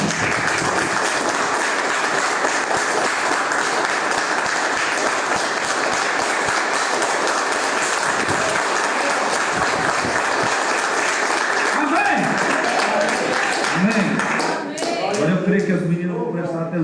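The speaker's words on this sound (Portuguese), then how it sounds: "Dá uma salva de palmas para Jesus Cristo" A church congregation breaks into sustained, loud applause for Jesus Christ, a dense wash of clapping that fills the room for most of the stretch before thinning out near the end as a voice begins to speak.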